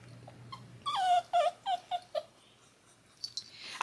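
A dog and a puppy play together, and one of them lets out a series of five or six high whimpering yips close up. Quieter rustling, panting, and a few faint squeaks come before and after the yips.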